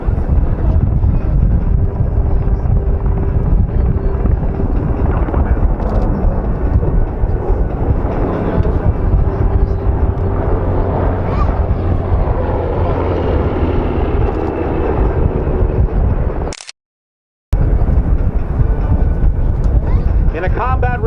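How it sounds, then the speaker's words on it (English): Black Hawk helicopters hover at an outdoor air show, their loud rotor and engine roar steady and close with wind buffeting the microphone, broken once by a brief dropout near the end. "Hawk helicopters comes to a hover"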